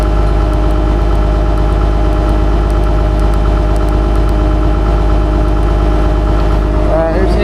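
A John Deere 700J dozer engine idles with a steady, loud, low droning hum that holds unchanged throughout, with a brief clatter just before the end.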